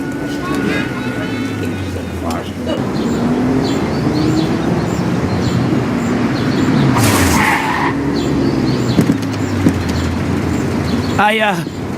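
In the video game Mafia: The City of Lost Heaven, a car's tires skid and screech amid engine roar, with a sudden crashing impact near the end.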